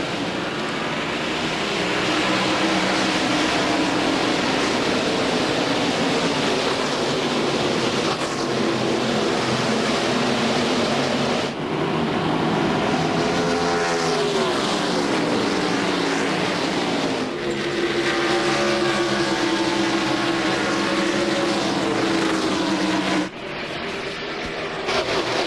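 Field of race cars at the start of the 1997 Miller 500 at Dover's Monster Mile, a loud, sustained engine roar with rising and falling pitch sweeps as cars pass, heard continuously from start to finish.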